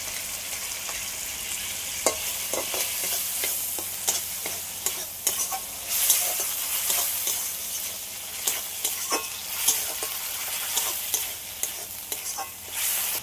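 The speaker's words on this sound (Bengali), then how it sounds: "সবগুলো আর একটু ভালো করে ভেজে নেব।" Tomato and egg mixture frying in a pan, a steady close sizzle broken by repeated scraping stirs of a utensil against the pan, with no talk.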